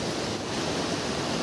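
Swollen floodwater rushes under a bridge, risen high below the span, making a continuous dense roar with no breaks.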